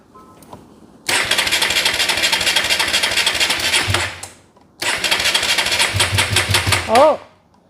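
Two cranking bursts from the engine of an all-wheel-drive Chevelle on its first fire-up attempt, loud and close, each running about three seconds with rhythmic starter pulses, a brief pause between, and a short rise at the end without catching.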